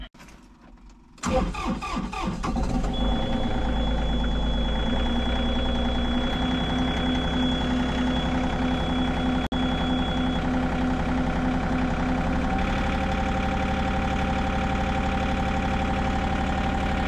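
A tractor engine with an intake manifold pressure fault cranks and catches after a second, then settles into a steady, loud, continuous idle that runs on unchanged.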